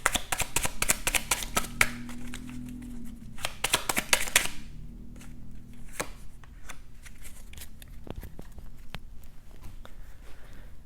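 Tarot cards are shuffled close by, starting with rapid dense riffling and flicking that then thins into sparser slides, taps and handling sounds.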